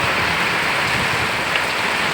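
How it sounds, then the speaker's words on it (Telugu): Heavy monsoon rain pours down in Andhra in a dense, loud, unbroken hiss. Drops drum on wet surfaces nearby, with no pauses or voices. "ఎంత వర్షం వచ్చిందో"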